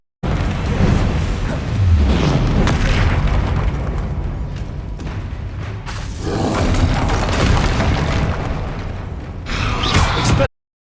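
Spell explosions in the Hogwarts Legacy video game, with Confringo among them: loud, dense booms and crackling bursts repeat almost without a break for about ten seconds, then cut off abruptly.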